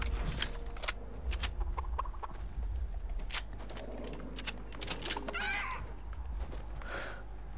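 Cartoonish chicken clucking from the video game Fortnite, a few short clucks and squawks scattered over steady game background noise and music.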